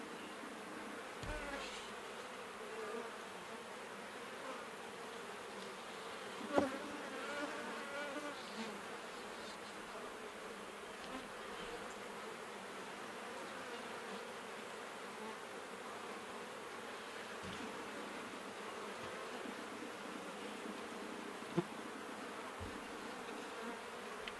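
Honey bees hum around an open hive box full of honey and comb, a soft, steady buzzing swarm sustained throughout with a couple of faint knocks.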